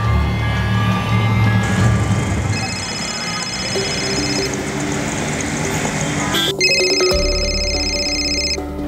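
A telephone rings loudly and steadily with electronic tones over a dense background of music and ambience, the ringing pattern shifting partway through.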